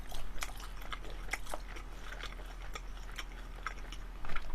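Someone chews and bites into sweet and sour pork (tangsuyuk) with sauce during an eating broadcast, giving repeated close crunchy bites and wet chewing in an uneven rhythm, with no talking.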